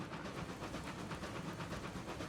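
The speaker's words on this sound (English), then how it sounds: "Now we can hear the train starting to speed up." A steady rumble of a video game train speeding up, with a faint rhythmic clatter running underneath, continuous and fairly quiet.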